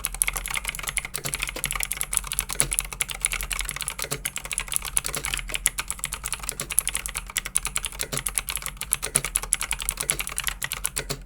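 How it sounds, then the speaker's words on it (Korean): Clicky switches on a Razer BlackWidow V3 Pro wireless gaming keyboard clatter in fast, continuous, rhythmic typing, close up and fairly loud, with sharp overlapping key clicks throughout and no talking. "찰칵하고 걸리는 느낌이 찰지고 리드미컬하게 치는 맛이 있습니다"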